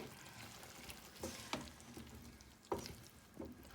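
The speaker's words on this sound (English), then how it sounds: "I'm going to add the tomatoes in and I'm going to mix them in to the vegetables, and we're going to just give that a quick stir" Tomatoes being stirred into a cauliflower and potato curry in a pan produce soft, quiet sizzling broken by a few scraping spoon strokes and wet squelches, heard alone.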